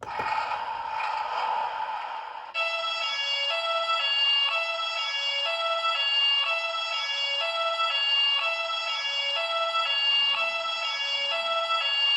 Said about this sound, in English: If you press it, it'll cycle through different sound effects.